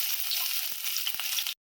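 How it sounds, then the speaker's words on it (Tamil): Chopped onions hit hot oil in a pan for a Tamil-style tempering, giving a steady bright sizzle with a few soft stirring clunks, close and loud for about a second and a half before cutting off. "எண்ணெய் மட்டும் வச்சுட்டு வெங்காயம் போட்டு தாளிக்க போகிறோம்"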